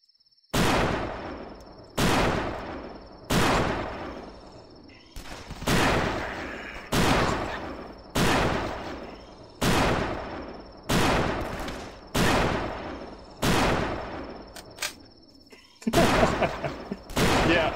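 Heavy gun blasts in a survival shooter game ring out one at a time at a steady pace, about a dozen loud booming shots each followed by a decaying tail, with a brief quieter gap near the end.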